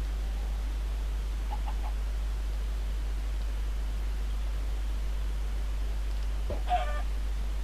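A hen in the Hard Craft video game gives a few faint, quick clucks early, then a louder short burst near the end, over a steady low hum and noise floor.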